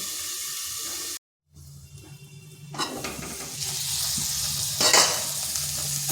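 Drumstick greens (sajne shak) fry and sizzle in a pan on low heat after a lid is lifted. A crackling hiss rises and swells with stirring scrapes.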